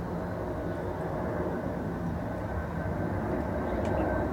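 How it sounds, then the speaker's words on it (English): Airplanes pass overhead in a steady, broad low rumble that holds throughout at a moderate level, with no talk. "doesn't affect the recording too much when the planes go overhead"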